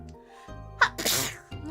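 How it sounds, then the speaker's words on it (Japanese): A single loud sneeze from a virtual streamer during a live stream, with a sharp intake at the start and a burst of breathy noise that fades out, heard over a faint music bed. "くしゃみがめっちゃ出る。"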